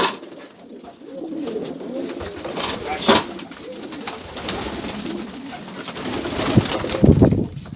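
Racing pigeons coo steadily at close range among a mixed collection of ornamental birds, with soft throaty calls repeating throughout and a few louder bursts near the end, while people talk quietly in the background.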